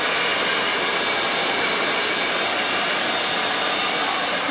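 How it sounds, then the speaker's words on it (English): A hair dryer blow-drying hair in a barbershop after a men's clipper cut, giving a steady, loud, unbroken airy roar throughout with no talking. "When you're blow drying girls' hair, don't leave it wet. Just dry it till it's bone dry."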